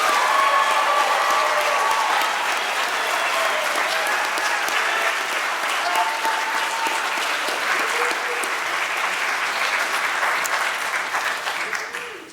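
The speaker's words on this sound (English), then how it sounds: "Writers, please rise to receive our applause." Sustained audience applause at a school awards ceremony honors student writers, a broad roar of many clapping hands lasting about twelve seconds with faint murmuring voices underneath, fading slightly at the close.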